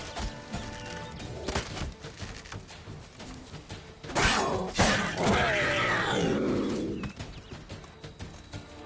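Bird calls in the video game Witcher 3: Wild Hunt, several cooing and chirping calls over a game soundscape, with a louder burst of calls in the middle of the stretch.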